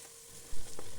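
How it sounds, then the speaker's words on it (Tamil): Tomatoes and ginger-garlic paste sauté in a pan with a soft close sizzle and one brief stirring bump, all within about a second. "எல்லாம் சேர்ந்து நல்லா வதங்கட்டும்."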